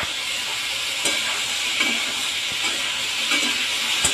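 Potatoes and vegetables frying in oil with salt and turmeric for a vegetarian curry, a dense, even hiss close by, with a few soft stirring knocks and no talk.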